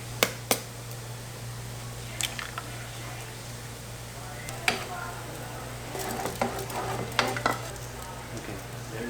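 Onions fry in hot oil in a skillet for fried rice, a steady sizzle running underneath while a utensil stirs and scrapes in short, irregular strokes.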